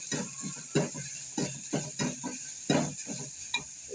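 Grated carrot and softened onion are stirred in a hot pan for a groundnut sundal, giving a soft, close sizzle with repeated scraping strokes at an uneven rhythm and no voices.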